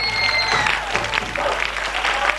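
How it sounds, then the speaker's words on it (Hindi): Audience applause at a school annual prize distribution, a steady dense clapping from a crowd that holds evenly throughout without breaks. "ताली बजा दें एक बार।"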